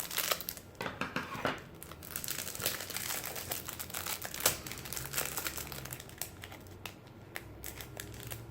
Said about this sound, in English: the most difficult part for me is getting into the packaging.